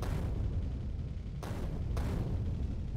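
Grenade blasts in the video game Factorio, a dense rumbling barrage of low booms with sharp bursts near 1.4 and 2 seconds, loud and continuous with no talking.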